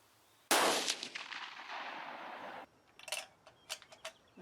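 A single Swiss K31 rifle shot at an outdoor range goes off with a sharp loud crack, followed by a long fading echo, then faint clicks and rustles as the shooter handles the rifle.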